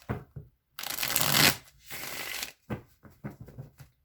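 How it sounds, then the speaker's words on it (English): Tarot cards being shuffled and drawn: a long riffling burst followed by several short, close snaps and slides as cards are pulled one by one, with no talking. "I'm just going to pull three cards"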